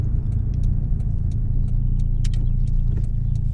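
A small Fiat Cinquecento 1.1 Sporting on the move, its engine giving a steady, close low rumble with a faint rise in revs and light road noise, no voices.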